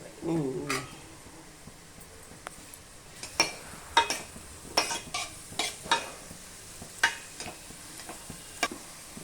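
Ingredients frying gently in a pan for bottle gourd payasam while being stirred: a soft, low sizzle broken by repeated sharp spoon scrapes and taps against the pan, fairly close but quiet.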